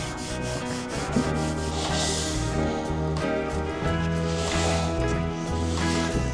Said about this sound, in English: then you take your damp cloth and we'll just wipe off the excess